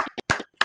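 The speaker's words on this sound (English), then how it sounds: "He driving down the street and he clapping at the same time" Hand claps from a person, a quick run of four or five close, uneven claps within a fraction of a second, crisp and short with no speech.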